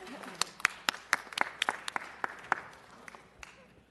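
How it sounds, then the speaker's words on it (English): Sparse applause at a city council meeting, distinct individual claps ringing out irregularly from a small group and thinning toward the end. "Let's give them another round of applause."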